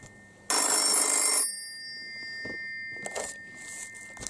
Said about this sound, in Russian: Кто-то звонит.